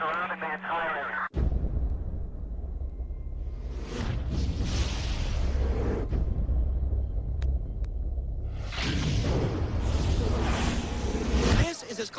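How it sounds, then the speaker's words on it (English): A huge explosion at a World Trade Center tower on September 11, with debris raining down: heavy, sustained rumbling and roaring rushes over the street, loud and continuous for many seconds after a short quieter moment. "A huge explosion now raining debris on all of us."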